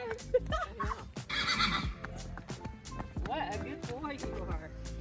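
Horses neigh and whinny repeatedly at a farm preparing yearlings for sale, mixed with clip-clopping hooves and faint background voices, fairly close and lively throughout.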